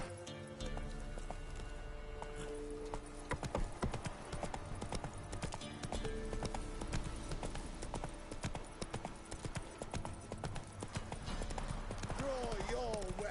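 Roach, a horse in the video game The Witcher 3, gallops with steady, driving clip-clop hooves throughout, layered under game music and voices.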